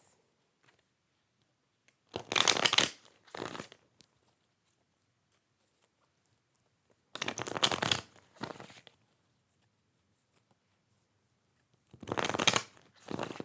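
Tarot cards are shuffled in three separate bursts, each a quick riffling flutter followed by a short tap, close and clear with silence between.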